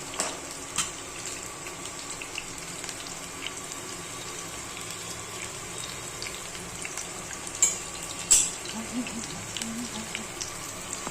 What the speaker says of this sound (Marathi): तोपर्यंत इकडं हा कांदा चांगला परतवून घ्यायचा.